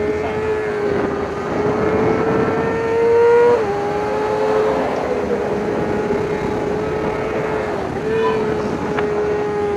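Amateur GT race cars lap a track in a steady, loud engine drone, with pitch shifts as cars pass and a swell around the third second, while an announcer talks over the racing.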